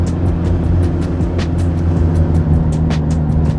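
An old, broken classic car engine drones steadily and loudly while climbing a hill and losing power, a constant low rumble with faint periodic ticking, heard from inside the car.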